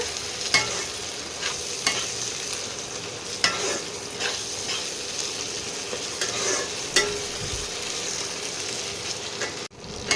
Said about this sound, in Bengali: এবার এটাকে একটু ভাজা ভাজা করতে হবে।